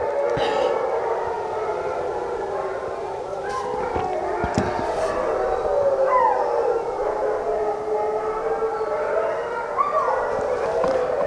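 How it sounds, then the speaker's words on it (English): Several dogs howl together in long, wavering overlapping tones, a steady chorus of moderate loudness with occasional soft sounds in the background. "Now my dogs start howling."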